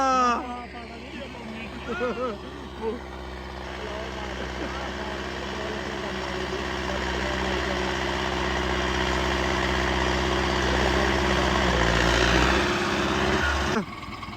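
A Mahindra Arjun tractor hitched to a 15-tine plough runs in 2 High, its engine a steady, close, deep drone that grows slightly louder, with voices talking over the start.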